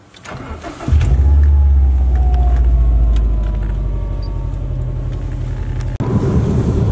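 A 2006 Subaru WRX with a newly installed AEM fuel pump cranks and fires, then runs with a loud, deep, steady rumble close by, settling slightly before a brief blip near the end.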